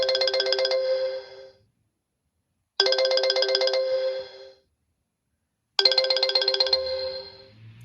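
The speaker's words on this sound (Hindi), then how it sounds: "ये देखिए जी, ये कॉल भी आ गई।" Incoming-call ringtone set off by a GSM security alarm system with a four-channel relay board: three identical melodic ringing bursts, each about two seconds long with quiet gaps between, clear and moderately loud, no voices.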